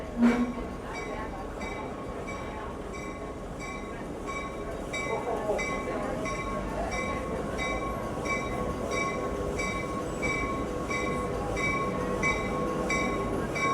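A Lehigh Gorge Scenic Railway train in Jim Thorpe, Pennsylvania, rolls along with a steady rumble and rhythmic clacking of wheels on the rails, heard from inside, with faint voices under the noise.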